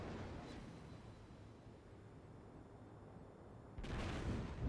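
In a naval warship video game, the Tier IV American battleship Wyoming fires a salvo from its main guns. A muffled rumble is followed by a loud, sharp boom near the end.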